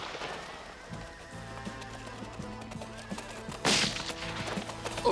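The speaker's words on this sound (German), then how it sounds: "Das ist ja Winnetous Pferd" Horse hooves clip-clop on the ground while a horse neighs in long, wavering whinnies, with a louder rush of noise partway through, set in a Western film scene.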